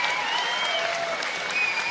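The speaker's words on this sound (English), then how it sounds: "they deserve your applause" Audience applause fills a boxing event at Eatons Hill, a dense, steady wash of clapping with some crowd noise, loud and sustained throughout.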